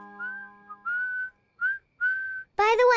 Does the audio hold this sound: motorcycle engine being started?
no